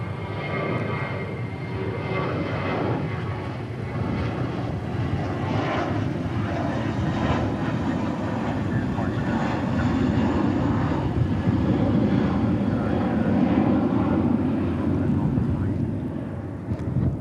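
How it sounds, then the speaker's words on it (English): A United Airlines Airbus A320 departs DFW airport on a hot night, its jet roar steady and moderately loud throughout, with people talking faintly underneath. "Looks like our next departure will be United to Chicago O'Hare on an A320"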